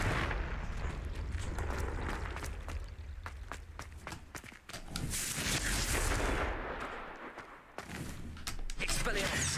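Confringo fire spells blast repeatedly in Hogwarts Legacy, loud rapid explosive bursts and crackling impacts piling over one another amid dense combat noise, with voices shouting over the fight.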